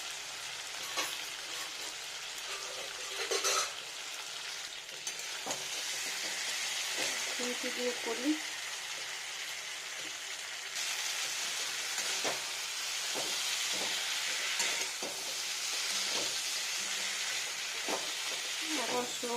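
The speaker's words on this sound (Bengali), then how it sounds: "আমি জল দিয়ে মশলাটা ভাজি না এভাবে ভাজি স্লো আছে" A spice paste fries slowly over low heat in a pan for a vegetarian curry, with a steady, close crackling sizzle and occasional stirring scrapes, and a person speaks at times over it.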